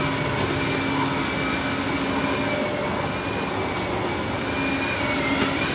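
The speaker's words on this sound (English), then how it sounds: "So this is like a two-story train." Double-decker passenger train heading to Zurich, heard from inside a second-class carriage as a steady rumble and hum of rolling wheels with faint squeals, continuous throughout and without talk.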